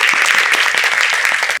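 An audience at a book concert gives sustained, dense applause, loud and continuous, then it cuts off abruptly at the end.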